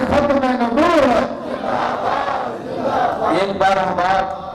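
A crowd at a religious gathering shouts responses in unison to slogans praising the Prophet, rising in loud bursts that swell and fade, with a lead voice calling between them.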